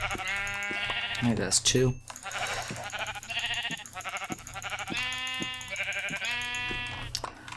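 Blocky sheep in the Minecraft modpack Tekkit give several repeated game bleats, clear and close, while players talk over them.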